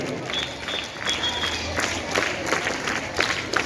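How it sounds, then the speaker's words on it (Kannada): At a school Karnataka Rajyotsava celebration, a crowd claps to welcome guests onto the stage, a moderate, continuous patter of applause with a few sharper peaks. "ಅತಿಥಿ ಗಣ್ಯರನ್ನು ಇವನ್ನೆಲ್ಲರೂ ಚಪ್ಪಾಳೆಯ ಮೂಲಕ ವೇದಿಕೆಗೆ ಸ್ವಾಗತಿಸಬೇಕು"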